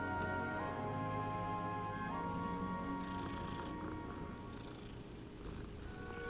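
A cat in Hogwarts Legacy purrs steadily while being petted, a continuous close rumbling purr with faint game music and ambience underneath, no voices.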